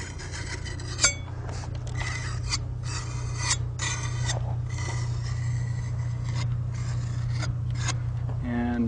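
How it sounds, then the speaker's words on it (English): A hand trowel scrapes wood caulking sealant off the edges of cracks in a log wall, giving repeated short rasping strokes over a steady low hum, close and moderately loud. "I'll finish off with this trowel, or at least initially scrape off the edges"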